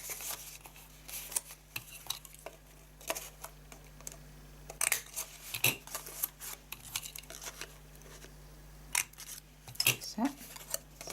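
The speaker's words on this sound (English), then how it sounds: "we are going to use the corner rounder punch" A corner rounder punch clicks and snaps through card stock several times, sharp short crunches spaced irregularly against a quiet room.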